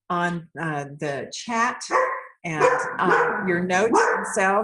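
A dog barking indoors during a call, a few short barks mixed in with a person talking, close and fairly loud.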